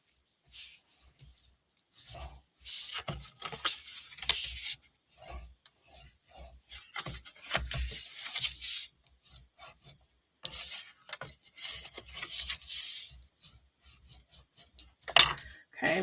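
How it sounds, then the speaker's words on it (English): Repeated rasping, rubbing strokes of a bone folder burnishing score lines on cardstock for a Stampin' Up! slimline fun fold card, coming in short close bursts separated by brief pauses, with no talking. "Now we're just going to burnish our score lines."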